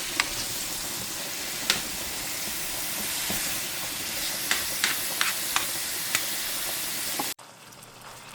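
Ground beef sizzles steadily in hot oil with garlic, a dense continuous frying hiss broken by a few sharp spatters and scraping clicks, close and fairly loud, then cutting off abruptly near the end.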